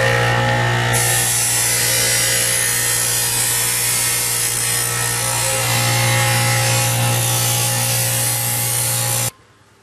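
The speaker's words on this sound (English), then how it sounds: "I'm going to use my grinder to do that. And you're just going to go through the whole entire thing and make sure that all the edges are nice and rounded." A grinder rounds and smooths the cut edges of ABS plastic armour plates in a continuous, loud abrasive whine and rasp that carries on unbroken, then cuts off abruptly at the very end.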